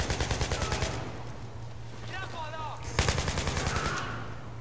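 AK-74U gunfire in Battlefield 3: a rapid automatic burst at the start and another near the end, loud and close, with a voice speaking in the pause between them.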